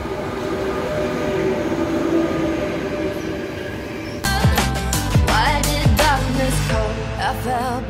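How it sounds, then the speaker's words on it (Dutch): A train bound for Rotterdam rumbles along, first as a distant low drone, then as a loud, close passage with heavy wheel clatter and rhythmic clunks over the rails. "En met deze trein gaan wij naar Rotterdam."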